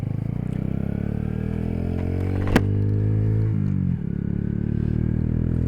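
A Honda C125 Super Cub with a Yoshimura exhaust and no baffle idles loud and close with a steady throbbing putter, a sharp metallic click, a brief rev that rises and drops, then a return to idle.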